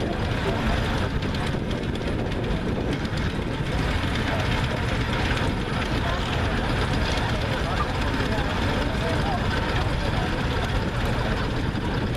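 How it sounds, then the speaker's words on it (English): A 1911 Geyser tractor approaches along a parade route, its old engine giving a continuous chugging rumble with crowd noise, while someone talks over it. "We got a tractor coming up on us here that we don't see every day."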